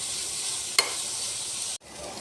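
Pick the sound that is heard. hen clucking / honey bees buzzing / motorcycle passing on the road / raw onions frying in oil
raw onions frying in oil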